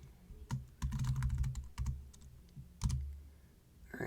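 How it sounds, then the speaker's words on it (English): Computer keyboard typing while entering a phrase in a Scratch coding project: a quick, irregular run of close, crisp key clicks with short pauses, alone without speech. "We'll type a phrase that we want."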